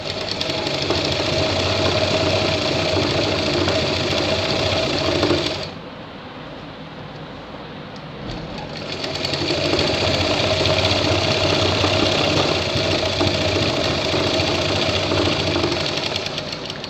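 An electric sewing machine stitches shirt fabric in a loud, steady, fast-pulsing whir. It pauses briefly in the middle with a low hum under it, then runs again at the same pace.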